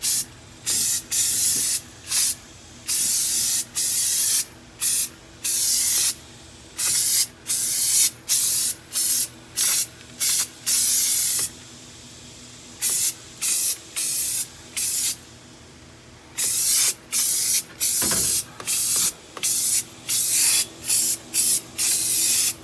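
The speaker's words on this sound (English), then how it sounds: "So I'm gonna go ahead and spray another coat." Repeated bursts of aerosol spray hiss applying a coating to replacement floor pans of a B-body car, each a second or so long, separated by short pauses, close and loud with no talking.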